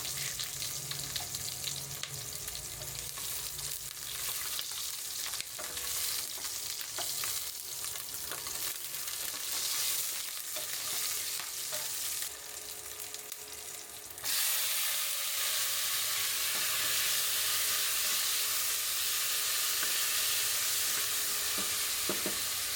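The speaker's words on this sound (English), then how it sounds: "I'll add some oil to a pan and saute the onion and tomatoes" Onion and tomatoes sauté in hot oil in a pan, giving a steady, close sizzle and crackle with faint stirring scrapes that jumps noticeably louder partway through and stays dense to the end.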